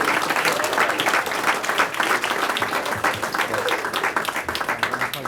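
Audience at a school district board meeting claps for a girls' cross-country championship team, dense sustained applause filling the room, fairly loud and continuous with faint crowd murmur.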